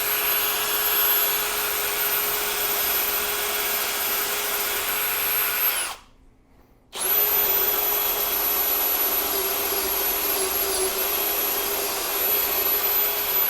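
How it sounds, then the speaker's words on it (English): A power drill boring a hole through the wall of a DIY teardrop trailer for a fan wire, running loud and steady with a high whine, pausing briefly midway and then resuming at full speed. "Now I need to drill a hole for the max fan wire to run through."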